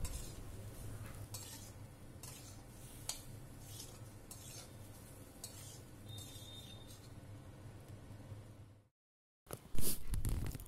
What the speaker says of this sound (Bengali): এইভাবে জল দিয়ে আরও আমি 5 মিনিটের মতো এই সবজিগুলো নেড়ে চেড়ে একটু ভাজা ভাজা করে নেব।